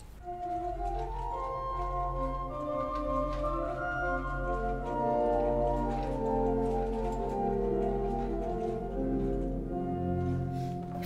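Hinsz pipe organ in Kampen's Bovenkerk playing its 8-foot and 4-foot flute stops together: a continuous, fairly loud flowing passage of held and moving notes that rings in a large church, with no voices.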